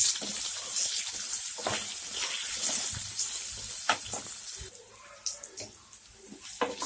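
Raw mango pieces stirred into spices frying with fenugreek and nigella seeds for mango chutney, a steady hiss of sizzling oil under scattered scraping and clattering stirs, close and moderately loud, with no talking.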